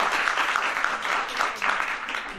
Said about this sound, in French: Un applaudissement pour Evelyne.